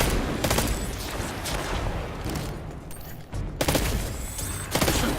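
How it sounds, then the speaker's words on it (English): Dense game-weapon blasts from the Dragonfly perk in Destiny 2, a rapid burst of sharp explosive pops and booming thuds rolling continuously, loud and close, with a brief dip before firing resumes. "It's a nice little explosion"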